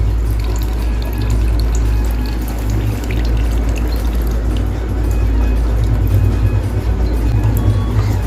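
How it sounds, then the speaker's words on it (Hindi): Water runs steadily from a household tap during a Krishna Janmashtami celebration at home, a loud, continuous rushing stream with no pauses. "पानी निकलत।"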